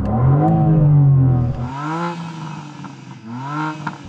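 A BMW M4 CSL sports car engine is revved hard up close, one loud rising blip that falls away, then two shorter throttle blips over a quieter idle.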